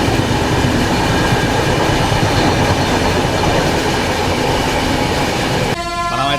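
The 12807 Samata SF Express from Visakhapatnam to Hazrat Nizamuddin rumbles along at speed, a loud continuous roar of wheels and carriages with steady clatter, and a brief squealing, tonal burst near the end.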